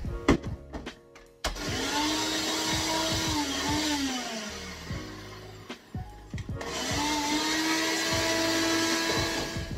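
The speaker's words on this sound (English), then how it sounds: "Lid on my NutriBullet. Okay, let's turn this bad boy on." A NutriBullet blender whirs loudly in two long bursts broken by short pauses, with clattering knocks as it starts and stops while whipping coffee.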